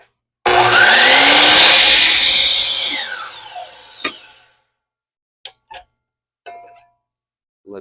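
A power saw cuts through a wooden shelf board for a wooden Christmas tree in one loud, steady cut of about two and a half seconds, followed by a few light knocks and clatters.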